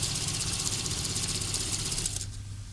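A sewing machine stitches an apron hem, its motor whirring in a steady, rapid, even run close by before winding down and stopping near the end.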